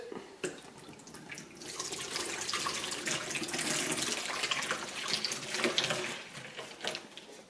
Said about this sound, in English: get yourself a bowl, put the beer in it